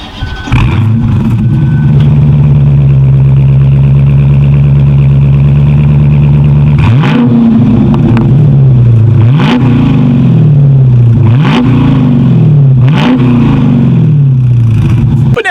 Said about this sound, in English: here is that awesome exhaust clip